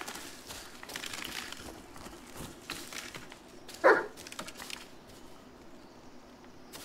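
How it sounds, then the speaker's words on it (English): A dog gives one short, sharp bark partway through, fairly close, against a quiet background with faint rustling. "You barked."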